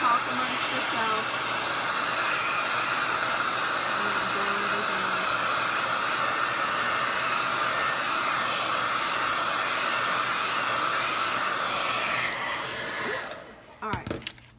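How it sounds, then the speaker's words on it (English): A blow dryer runs steadily at close range, drying layered acrylic paint on a craft project, a broad continuous hiss that holds for about thirteen seconds before cutting off, followed by a few small handling clicks. "I'm gonna have to make a little bit of noise with my blow dryer here and dry some of this"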